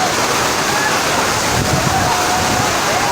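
Fast-flowing floodwater surges through a street in Karachi, a loud continuous roar of rushing water that runs throughout, with a few faint tonal sounds over it.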